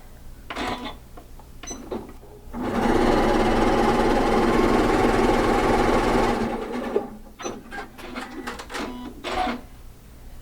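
Sewing machine stitching hexagon quilt pieces from jelly roll strips together, a loud close whirring run of about four seconds with a few short clicks and handling sounds before and after.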